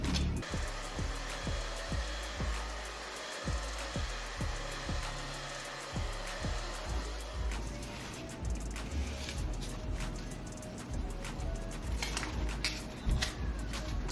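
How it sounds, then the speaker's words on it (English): A blow dryer runs steadily as it dries a glueless wig, its loud continuous whoosh carrying periodic thumps and shifts as the airflow moves. "I'm going to take the blow dryer and blow it just for a little bit."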